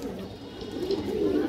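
A female pigeon coos softly, a low rolling burble that swells slightly toward the end, close by, with a voice talking faintly in the background.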